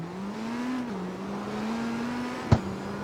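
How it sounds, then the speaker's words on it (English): Engine of an engine-swapped Ford GT in the CarX Street video game holds a steady droning hum, shifting pitch slightly, with a sharp click-like thump near the end, no talking. "If you listen to it, it doesn't really sound like the Ford GT, and that's because it's been engine swapped."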